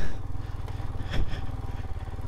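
A Royal Enfield Himalayan motorcycle putters at low throttle through sticky mud on a French trail, a close, steady, throbbing engine note with a brief louder rev near the middle.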